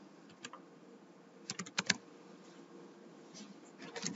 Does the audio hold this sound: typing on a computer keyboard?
yes